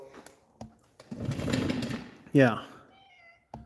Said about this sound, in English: that's the cat. That's the noise you're hearing.